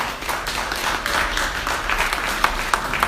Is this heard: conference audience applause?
yes